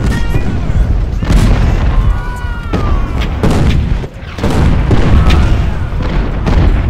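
Musket volleys and artillery fire from a Civil War battle in the strategy game Ultimate General: Civil War, a continuous din of overlapping booms and crackling shots with brief lulls, steady and loud throughout.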